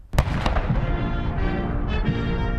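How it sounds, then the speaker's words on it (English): A 21-gun salute of ceremonial cannons at a presidential farewell in Washington, D.C.: two sharp booms in quick succession, then a long rumbling echo under crowd and band noise. "Cannons fired off a 21-gun salute as Hail to the Chief played"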